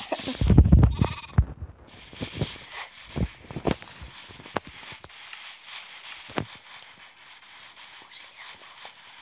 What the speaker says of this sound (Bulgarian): Я уби тази овца.